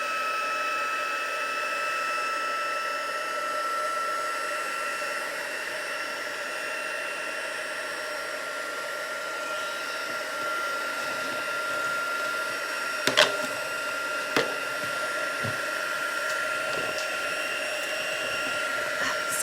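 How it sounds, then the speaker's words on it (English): A heat gun blows steadily for the whole stretch, drying paint colour on a craft project, with a couple of brief clicks and knocks near the end and no talking. "heat gun, which I should have done already"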